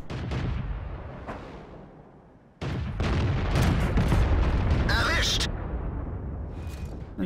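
Tank cannon fire in a World of Tanks-style battle game, with a T-25 in play: heavy booming shots and explosion rumbles, with a loud blast cutting in midway, mixed with game effects and someone talking over them.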